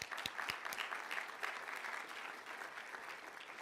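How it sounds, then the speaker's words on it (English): An audience at a swearing-in ceremony for a new VOA director applauds, a continuous crowd clapping with a few sharp nearby claps at the start, heard at a distance and fairly faint. "Round of applause,"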